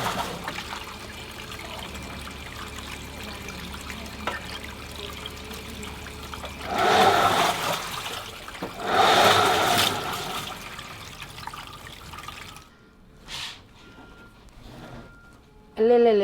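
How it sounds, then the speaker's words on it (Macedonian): Floodwater rushes in Macedonia, a continuous watery hiss swelling into two louder surging gushes, with voices talking over it and a brief quieter stretch near the end. "Вода."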